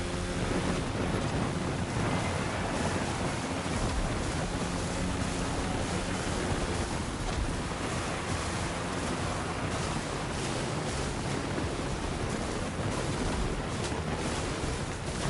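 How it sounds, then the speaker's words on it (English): A boat races across choppy water in the video game The Crew Motorfest, with a dense, loud roar of slapping waves, spray and rushing wind that continues without a break. "I'm hitting waves here and it's really throwing this thing off"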